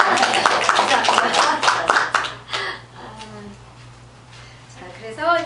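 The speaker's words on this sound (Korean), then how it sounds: "박수 딱" A citizenship class claps together for about two seconds, a quick burst of close hand claps that fades into quiet room tone, and a voice speaks briefly near the end.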